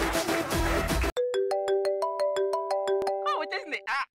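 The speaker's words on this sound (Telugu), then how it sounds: "ఇప్పుడు చూడు ఫోన్ వస్తుంది." A mobile phone ringtone plays as a bright melodic sequence of repeated electronic tones, clear and close, after a short burst of noisy sound at the start; no speech over it.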